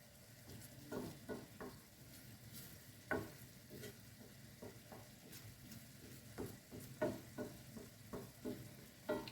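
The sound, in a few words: food cooking and being stirred in a pan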